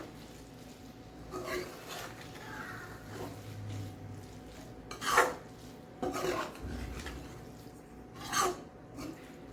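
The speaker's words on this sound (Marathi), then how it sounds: "आता हे आपण परत एकदा हलवून घेऊया" Kurdai bhaji is stirred in a pan after salt goes in, giving a few distinct rasping scrapes of spatula against the metal, spaced a couple of seconds apart over low background hiss.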